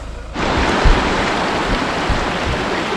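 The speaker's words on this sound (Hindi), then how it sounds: "ये आप देख सकते हो एक छोटा सा झरना टाइप है, तो आपको क्रॉसिंग करना है" A small waterfall-fed stream on the Tapalwadi monsoon trek near Mumbai gives a loud, close, continuous rushing roar. It starts abruptly after a brief quiet moment and stays steady, with no talk over it.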